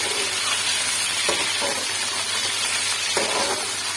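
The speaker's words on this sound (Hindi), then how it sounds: "अब मैं इसमें डालने लगी हूँ चिकन को हम फ्राई कर लेंगे। इसमें भून लेते हैं इसके अंदर।" Chicken pieces fry in ground onion paste in a pan for degi biryani, giving a steady close sizzle and hiss with a few brief stirring scrapes and no speech.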